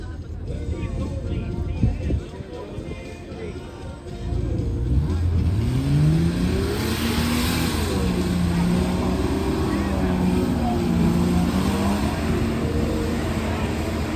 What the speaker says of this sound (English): All right, we got Logan Hall coming up to the line now, driving in Old Glory